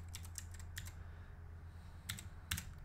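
Typing on a Gherkin mechanical keyboard flashed with QMK: a few quick, close, crisp key clicks in short bursts, separated by pauses over a low steady hum.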